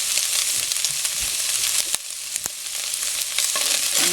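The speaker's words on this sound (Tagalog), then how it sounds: "Haluin natin." Ingredients sautéing in a pot for macaroni soup are stirred, a continuous hiss of frying close by, punctuated by occasional clicks and knocks of the utensil against the pot.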